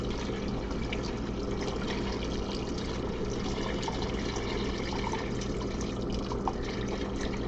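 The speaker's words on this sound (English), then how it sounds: "we're gonna add some more water to cover everything out of my Hobbit popcorn bucket" Water poured from a Hobbit popcorn bucket into a cooking pot of Jiggs dinner, a steady continuous splashing wash that stays even and fairly loud for the whole stretch with no talk.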